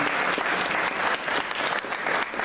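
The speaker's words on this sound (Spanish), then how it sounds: "Un fuerte aplauso." Strong, dense applause from an audience at an educational talk on systems thinking, loud and continuous for the whole stretch, with no voices over it.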